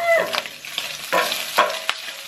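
Hot oil spatters and crackles while bitter melon and pork fry in a pan, with sharp irregular pops over a steady sizzle, close and fairly loud.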